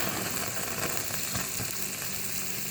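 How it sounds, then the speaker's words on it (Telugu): A tempering of asafoetida frying in oil in a pan for moong dal, giving a continuous, even hiss and crackle of sizzling close to the stove, steady throughout. "ఇప్పుడు ఇలా వేగాలి"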